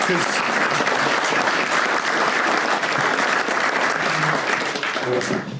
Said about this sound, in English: could you please stand and receive a nice round of applause?